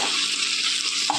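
Steady, close sizzling of ingredients sautéing in a hot pan for Chettinad chicken gravy, an even frying hiss throughout with a faint clink near the end.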